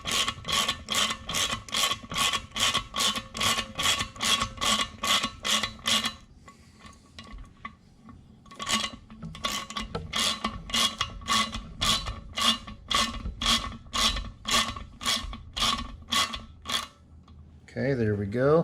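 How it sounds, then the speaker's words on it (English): A spring compressor's center screw is cranked down on a Hemi valve spring from a Ram 2500 6.4L cylinder head, giving a fast, rhythmic ratcheting clack that stops briefly, then resumes, with a short burst of speech near the end. "I'm going to start cranking down on this center screw, which you'll see that spring start to compress"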